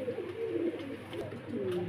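Pigeons kept as a breeding pair coo softly in a few low, rolling calls, close by and alone without speech.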